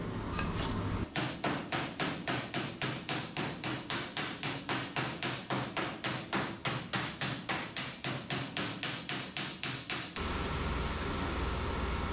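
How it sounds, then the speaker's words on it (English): A damaged sheet metal cowl section is hammered with a long, even series of about thirty sharp, ringing strikes, each close and loud, with brief quieter gaps before and after the run. "So let's hammer it some more."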